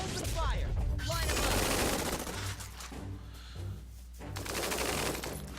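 Gunfire from units in the strategy game Tiny Metal, a dense volley of rapid shots and bursts with whooshing streaks, continuing in rattling waves over several seconds.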